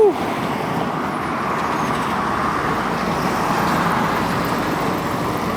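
Loud, steady roar of road traffic on a bridge road as a truck passes close by, a continuous broadband rumble filling the whole stretch with a slight swell near the end.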